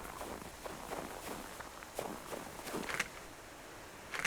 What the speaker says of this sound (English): I think it was my footsteps in the snow